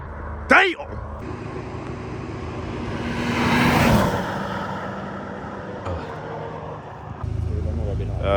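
Cars with freshly changed exhausts making a roadside flyby: a short sharp burst opens, then engine roar swells to a close pass and recedes, followed by rumbling idle and wind noise.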